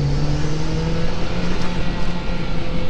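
A Mitsubishi Lancer Evolution X engine revs hard under acceleration, holding high rpm with a loud, sustained, rising drone heard from close by and with no voices over it.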